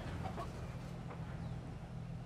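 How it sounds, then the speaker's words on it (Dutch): A T-Rex in Jurassic World Evolution lets out chicken-like clucks, a few short faint bursts over a steady low hum of game ambience. "Zo klinkt hij tenminste. Hij tok."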